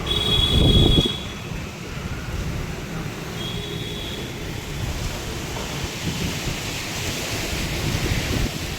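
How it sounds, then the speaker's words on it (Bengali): Storm wind blows in a steady, dense roar that buffets the microphone, loudest in a brief gust near the start and then continuing as a broad rushing wash with no one speaking. "এই ঝড়ের আওয়াজটা আমার দারুণ লাগে"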